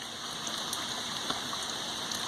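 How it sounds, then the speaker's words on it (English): Light drizzle falling outdoors in a backyard after heavier rain, a steady soft hiss with scattered faint drop ticks and no voices. "It's just drizzling now."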